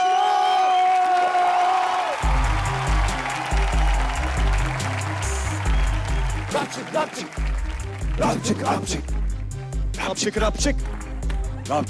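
Television comedy-show studio audience breaking into applause and cheering after a rhythmic music sting, claps and whoops building loudly under music and a host's voice.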